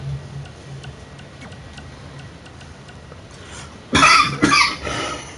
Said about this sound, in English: just in case if you hear me coughing, I am suffering from pneumonia right now